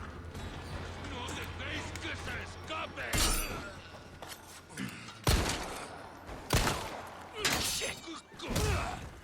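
Gunfire from the Resident Evil 4 Remake video game, several loud, sharp shots spaced irregularly among quieter clanks and mechanical creaks, with a voice talking in the background.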